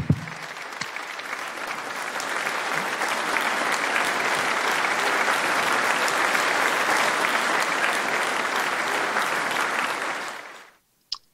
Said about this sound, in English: let's all join in the round of applause, thunderous round of applause for Tony Fauci